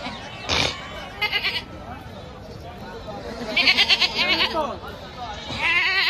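Goats bleat in short wavering calls at a goat and sheep market, several bursts close by over a murmur of people talking, with louder bleats near the middle and end.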